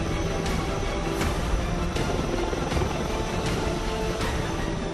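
Sea King and Dhruv helicopters on the deck of the aircraft carrier INS Vikrant during the Milan 2024 naval exercise, a steady loud rotor roar with rhythmic blade slaps and turbine whine, continuous throughout.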